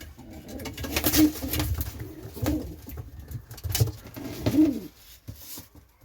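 Pigeons coo softly in low, throaty bursts, several repeated calls close by, with faint rustling and background noise between them.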